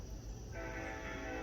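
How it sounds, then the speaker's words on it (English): A train rumbles by at close range, steady and loud throughout, with a constant low roar of wheels and a sustained horn-like tone layered over it and no talking. "here comes one of those trains"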